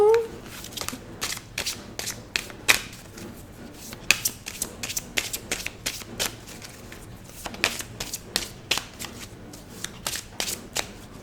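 Deck of oracle cards shuffled and cut by hand: a steady run of crisp, close card flicks and riffles at an uneven rhythm, fairly quiet throughout.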